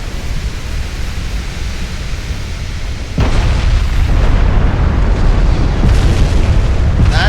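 Battleship turrets blowing up in the naval game Ultimate Admiral: Dreadnoughts: a steady noisy rumble gives way to a sudden loud broadband blast that keeps roaring on as a dense, sustained explosion.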